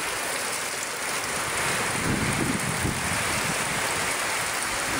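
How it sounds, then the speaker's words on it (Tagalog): Strong wind roars during a flood, strong enough to bend bamboo, as a loud, steady broadband rush that buffets the microphone and barely changes over the whole stretch, with no voices over it. "Grabe yung lakas ng hangin oh"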